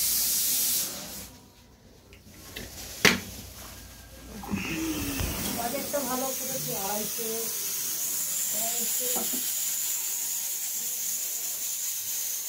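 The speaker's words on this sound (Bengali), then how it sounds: "আমি প্রেশার কুকারে এটা বন্ধ করি নি।" Steam hissing from a pressure cooker left on in a home kitchen, a sustained bright hiss running through most of the clip after a brief lull and a sharp click, with a voice speaking over it midway.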